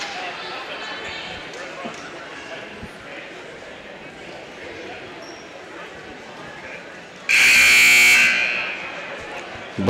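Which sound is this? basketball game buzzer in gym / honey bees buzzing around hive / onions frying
basketball game buzzer in gym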